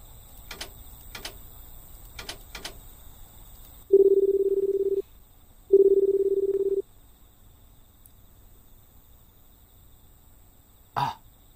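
In a phone-box escape video game, a public payphone is dialed: several quick, sharp key clicks, then two long, steady tones of equal pitch with a gap between them, and one last short click.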